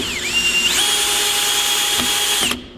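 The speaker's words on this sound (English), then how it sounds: "you put 2 screws on each side to secure the entire thing" A power drill drives long screws into 2x4 lumber while a ramp is being built. It gives one sustained, loud, close whine that rises in pitch as the motor spins up, holds steady for about two seconds, then cuts off abruptly.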